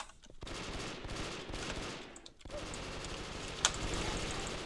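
Gunfire in the blocky shooter video game Brick Force, played on the Asia Town map: rapid bursts of automatic fire rattling almost continuously at moderate distance, with brief pauses and a sharp crack near the end.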